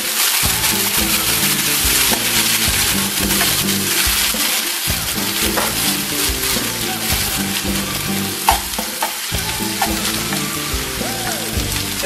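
Diced tomatoes hitting a hot pan and frying hard, a loud continuous sizzle and hiss with stirring scrapes and occasional spatters throughout.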